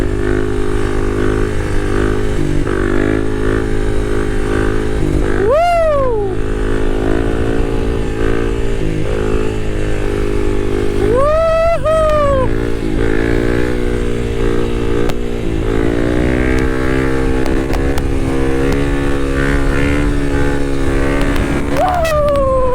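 A Kawasaki KLX dual sport motorcycle engine revs hard in sharp rising surges as the rider pulls wheelies, loud and close over steady wind noise, with a few separate rev bursts spread through the ride.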